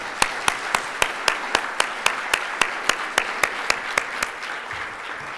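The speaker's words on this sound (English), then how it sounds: "let's give a round of applause to all of the" Audience applause for the breakout speakers at a closing plenary meeting: a steady wash of clapping, with sharp, evenly spaced individual claps standing out throughout.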